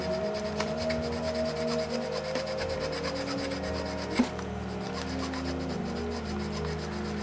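Rag pressed under a finger rubbing across mandolin frets during cleaning, a steady, close scrubbing rasp with rhythmic back-and-forth strokes and one brief knock partway through.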